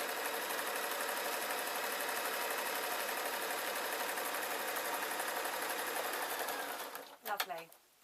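A sewing machine stitches a ballet bag in a steady, continuous run at close range, stopping near the end with a few small clicks.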